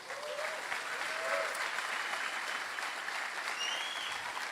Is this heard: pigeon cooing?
no